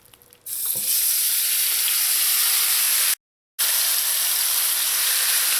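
Minced meat dropped into hot vegetable oil in a pot for Trini pastelles, bursting into a loud, close, continuous hissing sizzle that is briefly cut by a short silent gap, no speech.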